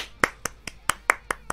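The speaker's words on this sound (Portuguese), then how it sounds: "Palmas!" Seven sharp, separate hand claps from one person, evenly spaced and close-up, each a crisp slap with a short decay and quiet between them.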